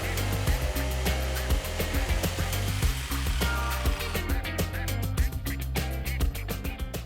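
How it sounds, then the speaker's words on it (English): A motorized jigsaw cutting wood buzzes steadily with a rapid rattling stroke and sharp ticking pulses, loud and close, with no talking. "then just pop in your jigsaw and away you go"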